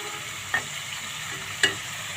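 Koi fish frying in oil in a pan, a steady low sizzle broken by two sharp utensil taps.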